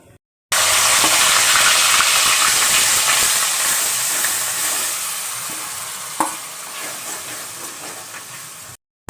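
A spice paste of ginger, garlic, tomato, onion, coriander, cumin, turmeric and chili powder frying in oil in a pan gives a loud, continuous sizzling hiss close by, with a couple of sharp spoon knocks as it is stirred.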